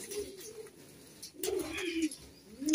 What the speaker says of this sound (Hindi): रामपुरी कबूतरों की पहचान होती है